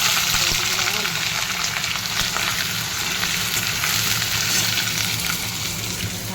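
Onions and panch phoron spices frying in oil, a dense, even sizzle running loud and close throughout, with faint background voices in the distance.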